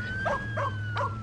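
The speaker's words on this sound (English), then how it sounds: "there's police siren and then some barking dog sounds" A cartoon dog barks three times in The Simpsons: Tapped Out mobile game, short evenly spaced yelps standing clearly above a steady electronic hum.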